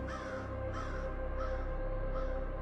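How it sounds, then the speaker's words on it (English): Distant crows and ravens cawing in a slow repeated series of four or five harsh calls, faint and far off over a low droning background. "sounds of distant crows and ravens"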